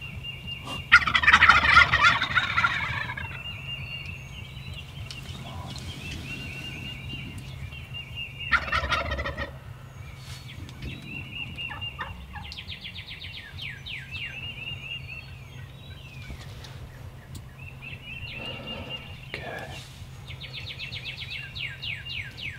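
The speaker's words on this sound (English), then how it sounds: "Still more birds on the limb back there." Several wild turkeys gobble repeatedly from roost trees at varying distances on Iowa public land in the morning, some bursts loud and close, others fainter, over a steady low hum and scattered bird chatter.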